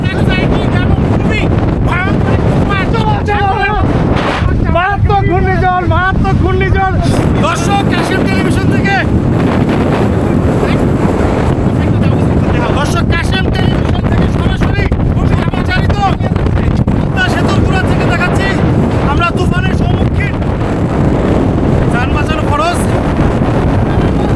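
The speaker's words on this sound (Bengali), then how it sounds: "পুরোপুরি তুফান চলে আসছে" Roaring storm wind on the Padma river bank at Mawa, loud and continuous, blasting against the microphone the whole time while people talk over it.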